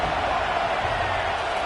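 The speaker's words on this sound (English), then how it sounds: "This crowd bringing an ear-splitting welcome to their visitors." Football stadium crowd roaring a loud welcome to the visiting team, a continuous broad wash of cheering noise with no breaks, heard in a video game broadcast.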